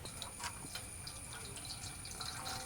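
Jaggery syrup for gatti payasa pours through a strainer, giving a faint, steady trickle of liquid with soft dripping and splashing accents in a quiet kitchen.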